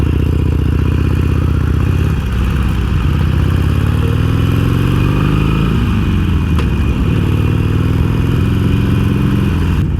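A stock 2017 Harley-Davidson Iron 883 motorcycle engine runs steadily and loud throughout, a close, continuous low rumble with uneven throb and slight shifts in pitch midway, no voices.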